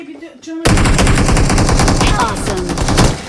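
Rapid automatic gunfire erupts after a brief quiet moment, a loud, dense stream of shots that continues without pause to the end, in a Turkish-language shooting game.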